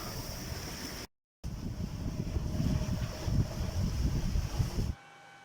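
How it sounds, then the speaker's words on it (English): A sailboat under way at sea in wind, with steady broadband rush of wind and water against the hull, continuous and fairly loud with a brief dropout, no voices. "Sailing, finally!"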